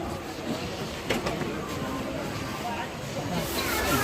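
A crowded passenger train being boarded gives a steady rumbling hiss, with faint clicks and murmuring voices of people nearby throughout.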